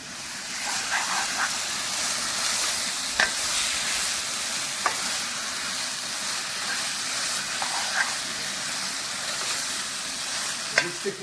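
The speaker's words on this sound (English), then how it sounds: "This chicken is now cooking for about 3 minutes on a high heat." Chicken pieces frying on high heat for a restaurant-style BIR chicken vindaloo give a steady, loud sizzle and hiss close by, broken now and then by sharp clicks and scrapes of stirring.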